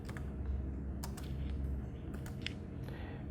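Fingers type on a computer keyboard in a short run of quiet, close key clicks over a low background hum.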